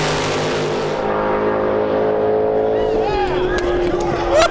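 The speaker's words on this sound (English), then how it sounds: "That's the fastest nitrous pass we've ever seen at Drag Week by a lot." A nitrous-fed Corvette making a drag racing pass in the Unlimited class at Drag Week, a loud sustained engine roar that stays steady before pitch shifts and a crowd murmurs beneath.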